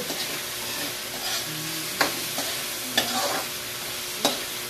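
Sweet potato sautéing in a pan, a steady broadband sizzle with a few sharp clinks and scrapes of stirring, close and moderately loud, no voices.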